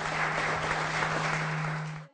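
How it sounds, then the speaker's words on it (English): Audience applause at an Earth Day welcome event, a steady wash of clapping from a seated crowd that holds evenly for about two seconds before cutting off abruptly, with a constant low hum underneath. "let's give an applause"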